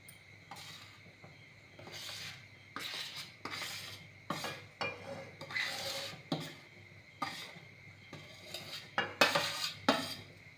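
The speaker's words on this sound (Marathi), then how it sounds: "आता हे व्यवस्थित असं पीठ मिक्स करून घ्यायचं आहे" Flour batter for chicken vade being mixed in a bowl, with irregular scraping and clinking of a utensil against the bowl that builds in intensity toward the end, close and alone with no voices.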